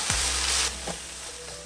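Spinach frying in a pan with salt, turmeric and pepper, giving a loud, close hiss that flares at first and then settles to a steady sizzle with a few soft clinks, and no voices.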